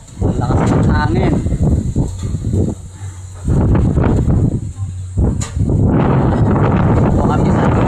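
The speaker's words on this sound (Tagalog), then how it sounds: "Lakas ng hangin." Strong wind buffets the microphone beside a flooded lagoon shore, loud rumbling gusts that swell and drop across the scene, with people talking in between.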